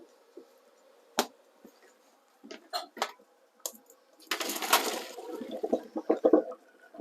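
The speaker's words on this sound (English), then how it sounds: "I'm going to put them through the colander and then refresh them with cold water." Broad beans tip into a colander and get rinsed with cold water: scattered sharp clinks and knocks, then a burst of rushing water and rattling beans close by.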